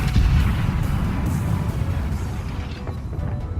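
Naval gunfire in the World of Warships game, with heavy booming shots aimed at the ship Eisenhower, dense low rumbling blasts that roll on continuously and fade slightly toward the end.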